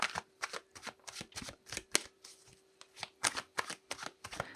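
Tarot cards being shuffled, a rapid run of crisp riffling slaps and flicks repeating close up with short pauses, a faint steady hum underneath and no talking.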